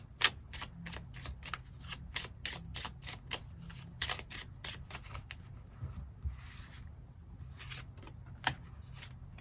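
Tarot cards are shuffled and drawn in rapid, crisp riffling flicks that repeat steadily up close, without any talking.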